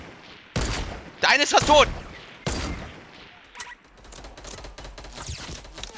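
Video game weapon fires bursts of automatic gunfire as sharp, loud volleys separated by pauses, followed by scattered fainter shots. Someone talks over it.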